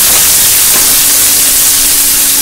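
Mustard seeds crackle in hot oil for Indori poha, a loud, dense, continuous sizzle and hiss heard up close with no talking.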